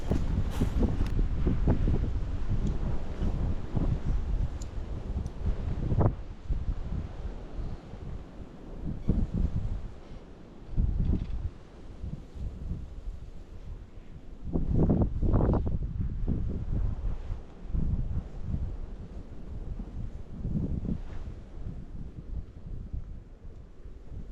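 Strong wind gusting outdoors during winter pike fishing with a jig rig, buffeting the microphone as a steady loud rumble with heavier bursts throughout, no voices.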